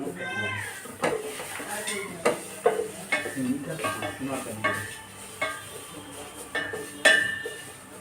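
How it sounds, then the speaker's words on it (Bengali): Onions frying without oil in an Amway Queen pan, with a soft sizzle under repeated clinks and scrapes of stirring, and faint voices or tonal sound in the background. "পেঁয়াজটা আমাদের ভাজা হয়ে গেছে"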